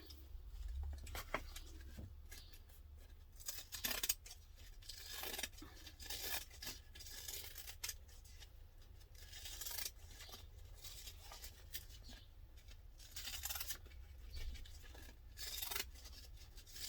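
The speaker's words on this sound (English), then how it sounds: "We're going to trim that down." Scissors trim material for a laptop briefcase in quiet, close snips and rasping cuts, arriving in irregular short bursts with soft rustling and faint handling noise between them.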